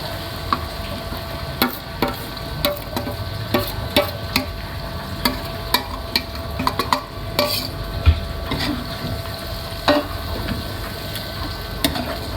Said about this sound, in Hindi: टमाटर जो हमने डाले हुए थे वो भून गए, अब ये पूरा चिकन इसमें डाल लेंगे।